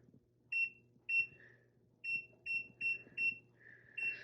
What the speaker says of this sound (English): I am just gonna set the timer